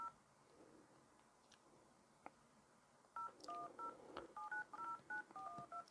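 A run of short electronic keypad tones from a Bluetooth card terminal, about a dozen quick beeps in an uneven sequence as a phone number is entered, clear and close after a quiet stretch.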